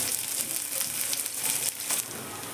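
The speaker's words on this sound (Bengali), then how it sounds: "তেলটা আমার গরম হয়ে এখানে আমি দিয়ে দিলাম এক মুঠো পেঁয়াজ" A handful of onion dropped into hot white oil in a pan for a paneer dish, filling the moment with a steady, bright, close sizzle that crackles unevenly.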